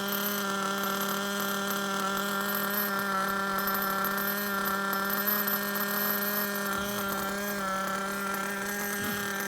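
A small engine runs steadily on a SMART engine break-in machine, giving a constant loud droning hum with even harmonic tones and slight shifts in pitch as the RPM is nudged higher.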